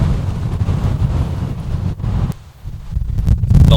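Gusty wind buffets the microphone on a golf course, a loud continuous low rumble that dips briefly before surging back strong.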